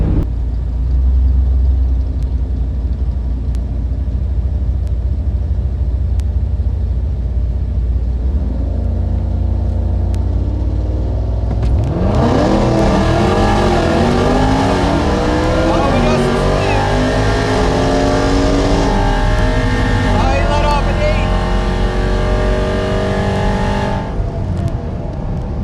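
A ProCharged 5.7 Hemi drag car idles with a deep burble, then launches into a loud, screaming wide-open run with the engine note climbing through the gears for about twelve seconds before lifting off.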